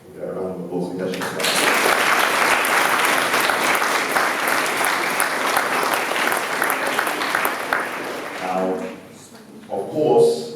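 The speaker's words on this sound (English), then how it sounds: "Get a round of applause for that." An audience at a motivational talk for students bursts into sustained loud applause lasting several seconds, then fades as a speaker's voice returns.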